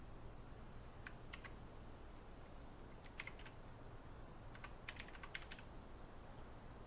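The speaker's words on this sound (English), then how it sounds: "So if you can hear my keyboard," Fingers type on a clacky computer keyboard in short, quiet bursts of sharp key clicks with pauses between them, over faint background hum.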